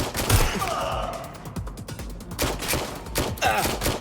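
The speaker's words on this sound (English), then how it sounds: "Shots fired." Gunfire in the video game Watch Dogs Legion, rapid bursts of close, loud shots that come in clusters with brief gaps across the whole stretch.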